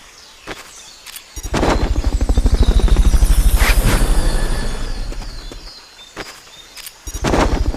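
A helicopter in the video game Metal Gear Solid Peace Walker, a loud rapid rotor thudding that swells and fades over several seconds, with sharp impact bangs before and after.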